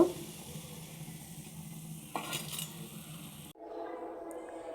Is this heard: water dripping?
no